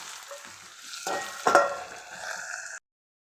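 Steamed potatoes tossed and stirred in a hot pan for batata poha, giving a soft sizzle with a couple of louder scraping strokes before an abrupt stop.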